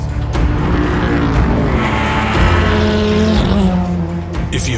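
Vintage race cars roaring along a track, loud sustained engine drone with shifting pitch as cars pass, brief tyre squeal, no speech.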